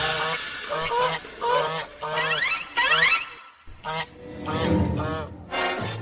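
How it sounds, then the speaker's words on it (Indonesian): Landes geese honking in a village flock, repeated nasal calls in short bursts through most of the stretch, loud and close, with a brief gap midway. "Ini angsa landes."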